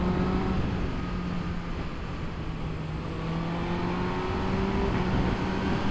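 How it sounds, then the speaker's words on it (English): A Honda CBR1000RR Fireblade SP2 motorcycle engine roars steadily up close, a continuous loud drone whose pitch climbs slowly as it revs. "There's a lovely bang and noise as you go through the revs aggressively."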